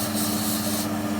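Chewing gum remover sprayed from a can onto gum stuck to a floor in a communal area, a steady close hiss lasting under a second before cutting off.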